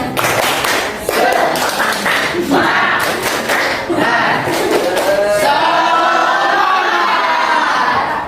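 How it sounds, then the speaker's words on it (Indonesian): A classroom of students performs a rhythmic spirit clap, a quick patterned burst of clapping and thumping with shouts from the crowd, followed by sustained cheering and chatter. "Ayo kita tepuk semangat dulu. Tepuk semangat."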